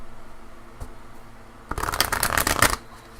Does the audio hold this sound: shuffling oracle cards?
yes